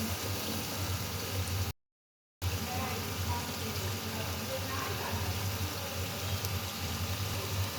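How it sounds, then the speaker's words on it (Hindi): Ginger, garlic and green chili paste frying in hot oil for a mutton liver kaleji masala, a steady dense crackling sizzle held close throughout, broken by one brief dropout. "और इसको भी हम ऑयल के अंदर अच्छे से भून लेंगे।"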